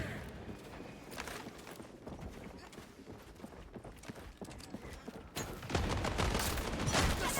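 Gunfire in the video game Highguard, dense overlapping shots and bursts running throughout at steady loudness, growing heavier and louder near the end.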